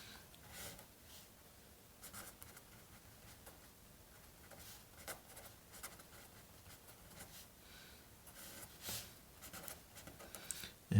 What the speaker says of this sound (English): let me just write down the state.